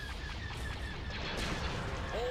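Starship cannons firing in the Star Wars Empire at War space battle game, a dense continuous barrage of blasts and laser shots layered with sweeping tones, loud and steady throughout.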